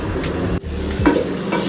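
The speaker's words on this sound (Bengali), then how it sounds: "কাঁচামরিচ কিন্তু ভাজার সময় ফুটে ওঠে।" Green chillies frying in hot oil in a home kitchen, a steady close sizzle broken by a brief sharp drop and bursts of popping and spattering.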